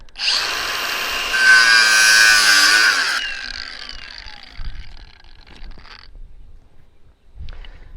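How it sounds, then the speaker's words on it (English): An angle grinder cuts through Stallion Rail, starting with a loud high whine and a bright shriek of metal for about three seconds, then spinning down and trailing off into quieter handling noises and faint clatter. "The rail, Stallion Rail, angle grinder is the easiest."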